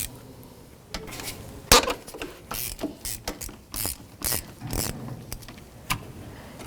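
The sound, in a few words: ratchet with 13 mm socket breaking free ignition coil mounting bolt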